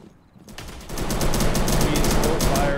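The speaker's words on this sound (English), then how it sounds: "He's still firing towards the balcony." Video game gunfire aimed at a balcony rings out as rapid, sustained automatic bursts, loud and close, starting suddenly after a brief quiet moment.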